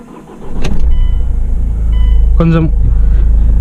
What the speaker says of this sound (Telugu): మనకి ఇంజన్ స్టార్ట్ చేసి చూస్తే మనకి